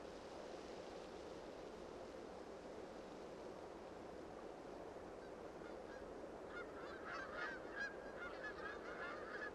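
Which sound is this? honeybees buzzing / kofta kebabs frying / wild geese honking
wild geese honking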